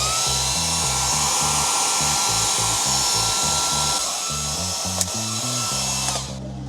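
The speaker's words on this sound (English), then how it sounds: "Sometimes heating it up with a hairdryer can bring it back to life." A hairdryer blows steadily to heat a boiler's circuit board, a constant loud whir under a pulsing low drone, with a brief click near the end before it cuts off.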